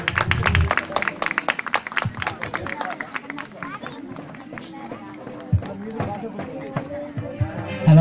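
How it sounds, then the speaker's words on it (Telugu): Audience clapping at a stage welcome for a pastor, a steady patter of hands that fades somewhat after the opening, heard with a voice speaking over it. "చప్పట్లు కొట్టండి అందరు కూడా."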